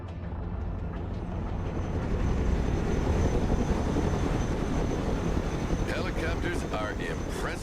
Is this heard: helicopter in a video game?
yes